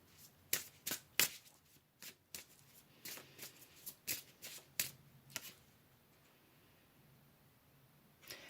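A deck of tarot cards being shuffled gives a quiet, close series of crisp riffling snaps and slaps in irregular bursts over several seconds, tapering off toward the end, with no talking.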